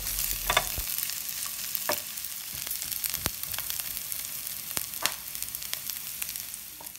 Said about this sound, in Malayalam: സവാള അധികം മൂത്ത് വരേണ്ടതൊന്നുമില്ല, നന്നായിട്ട് വഴന്നു വന്നാൽ മതി.